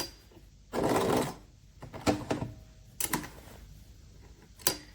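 A Singer sewing machine appliquéing a double wedding ring quilt seam at 12 stitches per inch runs in several short, close bursts, with quiet pauses between them.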